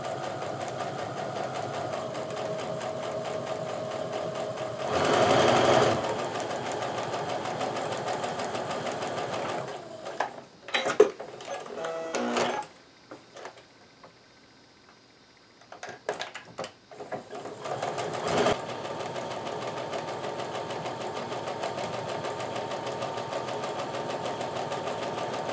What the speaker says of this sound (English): So I have everything lined up in my sewing machine, and now I'm just going to sew that scant quarter inch seam